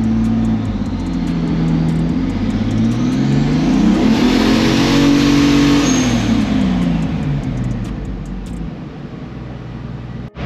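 A turbocharged car engine runs loud and steady at length, its revs swelling up and easing back down in long, smooth sweeps, with no voices over it.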